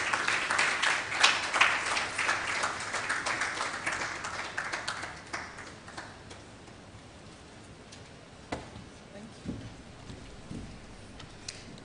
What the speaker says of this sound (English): Shall we please welcome her with a round of applause